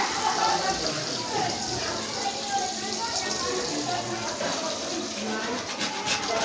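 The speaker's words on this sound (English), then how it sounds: "we are going to show you how to stop flowing water with a stopcock" Water pours steadily from an open pipe awaiting a stopcock, making a constant rushing, splashing hiss close by with no pauses.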